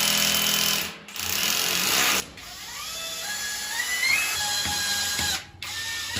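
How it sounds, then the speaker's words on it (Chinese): A power drill bores holes through a wall mirror, grinding and rattling in sustained loud bursts that are broken by a few short pauses. "先把镜子的孔打出来"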